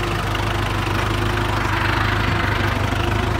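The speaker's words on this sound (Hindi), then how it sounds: "सबसे कम आरपीएम पे, कंपनी के आरपीएम पे चल रहा ट्रैक्टर।" A Kubota 4501 tractor fitted with a plough runs at very low RPM, its engine giving a steady, close, rhythmic low throb with no voices.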